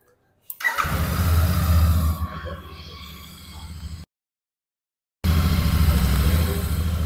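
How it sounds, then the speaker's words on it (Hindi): A 2024 Royal Enfield Super Meteor 650 motorcycle starts up and settles into a deep, throbbing exhaust note, cuts out abruptly for about a second, then returns with the same steady low rumble. "कैसी एग्जॉस्ट नोट निकालती है गाड़ी ये सुन लो।"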